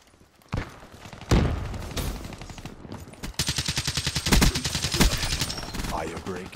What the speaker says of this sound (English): The gun's hitting kind of hard